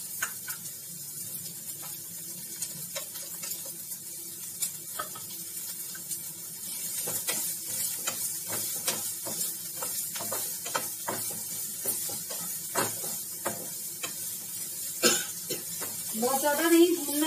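Two finely chopped medium onions fry in a pan: a steady soft sizzle with scattered stirring scrapes and clicks that grows livelier toward the end, with a voice talking over it.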